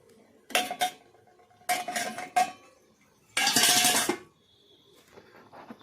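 Tempering for egg curry sizzling in a pot at home, heard as three loud bursts of hissing, spluttering frying with metal clinks of a ladle against the pot, then quieter clatter.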